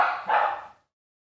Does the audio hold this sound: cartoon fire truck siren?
no